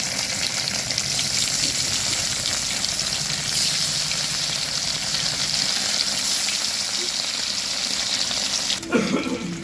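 Eggs frying one by one in hot oil, a steady close sizzle and crackle that runs unbroken throughout, with a brief clatter near the end.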